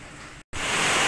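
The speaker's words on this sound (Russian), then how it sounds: "Такой сильный дождь" Heavy rain falls in Kuban, a dense, loud hiss of downpour that cuts out for a split second and then returns even stronger.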